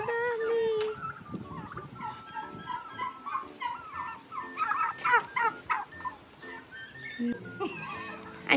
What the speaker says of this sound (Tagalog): Alam, may pabo. Ayun, pabo.